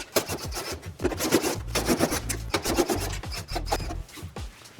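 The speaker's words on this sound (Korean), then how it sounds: "이쪽 중간에 나사 하나, 2개, 이 하단에 하나, 둘, 상단에 하나, 둘, 총 6개 나사를 분리해 주겠습니다." Screws being backed out of the rear casing of an LG Whisen air conditioner during disassembly, heard as close, rapid, rasping ratchety clicks in a continuous flurry.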